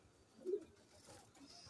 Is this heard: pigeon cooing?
yes